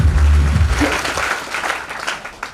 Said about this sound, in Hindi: एक बार संदीप के लिए तालियां करना